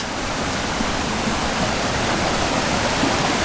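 Oylat waterfall near İnegöl, Bursa, pours in a steady, loud, dense rush of falling water, constant and unbroken, with no voices over it.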